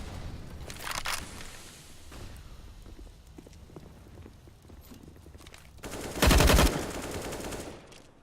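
Automatic rifle fire in Counter-Strike: Global Offensive during a competitive match, rapid bursts around the first second and again near the sixth, between quieter footsteps and distant shots.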